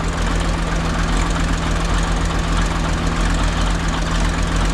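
A 1959 International dozer's engine running at a steady, loud, rumbling idle with a constant low drone and vibrating, knocking undertone, close by and unbroken.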